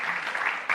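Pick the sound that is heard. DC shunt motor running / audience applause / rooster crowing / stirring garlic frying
audience applause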